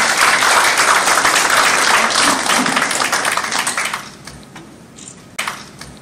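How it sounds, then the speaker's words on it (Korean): At a formal ceremony marking UNESCO Memory of the World registration of April 19 Revolution records, an audience bursts into loud dense applause that thins after about four seconds into a few scattered claps. "큰 박수로 맞이해 주시기 바랍니다."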